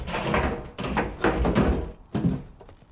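A door in the video game We Happy Few opens with a few heavy knocking thuds and wooden clunks, spaced unevenly and fairly close.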